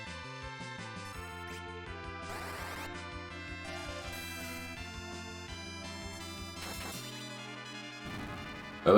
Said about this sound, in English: That Jingle Bell-like sound of a holy powered sword.